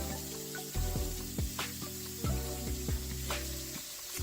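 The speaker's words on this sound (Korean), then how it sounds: "지글지글 소리가 듣기 좋네요." Ground beef sizzles and crackles in an oiled pan during home cooking, a steady close frying hiss broken by clattering stirs and utensil knocks, with no one speaking.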